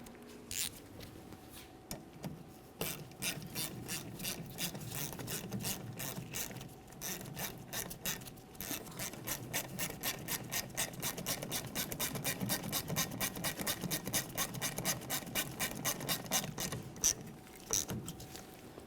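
A rear brake hose fitting being threaded and snugged onto the caliper of a 1999-2006 Chevrolet Silverado 1500, faint metallic scraping at first, then a quickening run of close ratchet clicks toward the end.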